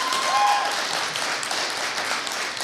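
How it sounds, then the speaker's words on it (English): An indoor audience at a talkback event applauds steadily and fairly loudly, a dense wash of clapping that holds throughout. "If y'all could just clap it up for her."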